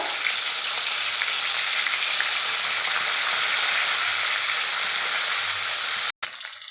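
Pangas fish fry in hot oil with a loud, steady, close sizzle that hisses without a break, then cuts out for a moment near the end before it resumes.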